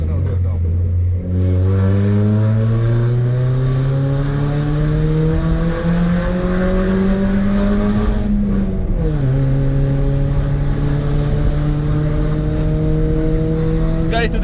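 Car engine idling and revving with a rising then falling steady drone, loud and close, with faint crackling under it and talk over the top.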